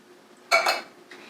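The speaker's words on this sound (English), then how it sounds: "So these are diced tomatoes that I'm adding in here." Diced tomatoes tipped into a Ninja Foodi pot land as one brief, close clatter and rustle at the pot, with a fainter scrape trailing after it.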